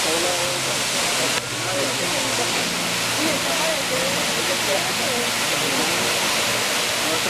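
A waterfall at Las Lajas in Supatá roars as a loud, constant rushing wash close by, while people talk over it.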